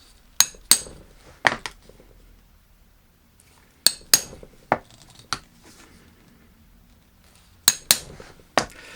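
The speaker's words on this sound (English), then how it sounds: "I'm using a French cobbler's hammer." A French cobbler's hammer strikes a metal leather punch sharply in small clusters of two or three while making leather belts, with short pauses between groups, close and crisp with no talking.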